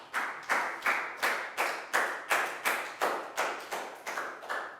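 Children in a Year 4 science lesson clap for a classmate in about a dozen regular, evenly spaced claps, close and even, with no talk over them.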